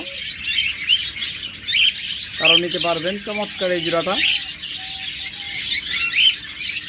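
Cockatiels at a pet bird seller chirp and squawk in a dense, continuous chatter, with someone talking over them for a couple of seconds midway.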